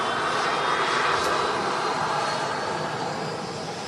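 Airliner engine roaring steadily at Manchester Airport, a loud broadband jet rush heard from beside the wing, holding constant and easing off slightly toward the end, with no talk.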